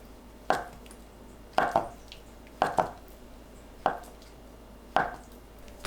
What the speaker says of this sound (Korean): 1cm 두께로 썰어주세요.